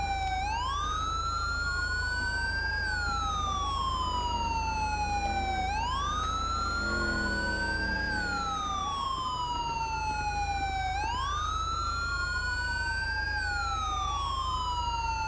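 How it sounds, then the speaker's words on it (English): A police car siren in GTA V with the LSPDFR mod wails in long rising and falling sweeps, loud and continuous throughout, over a steady engine drone with no talk. "He's gonna sit back and run his siren all day."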